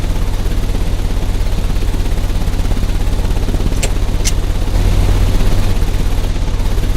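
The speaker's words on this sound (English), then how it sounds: "The engine has started." A machine engine in the Sherlock Holmes: Crimes and Punishments video game runs with a loud, steady low drone and rumble, with a couple of brief clanks partway through and a slight surge near the end.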